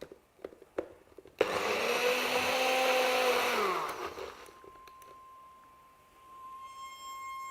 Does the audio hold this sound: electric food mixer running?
yes